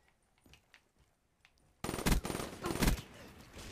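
An M8 rifle in a video game fires in loud, rapid bursts that begin abruptly after a quiet stretch of soft sounds and keep going in close, punchy volleys.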